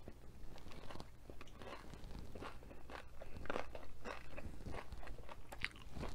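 Close, repeated bites and crunches into cheesy nachos, wet chewing with crisp cracks at an uneven pace through a steady mouth-noise bed, no talking.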